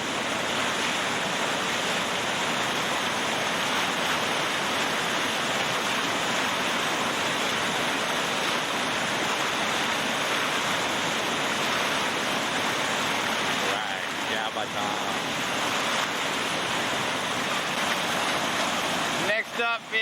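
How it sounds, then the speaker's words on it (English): Steady rain falls outdoors at an event, a dense continuous wash of near, loud patter like heavy rainfall on surfaces that runs unbroken throughout, with faint voices underneath. "Starting to rain, Tom."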